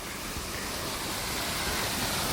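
A small waterfall falling among paddy fields outdoors, a steady broadband rush of falling water filling the scene, close and continuous without pauses.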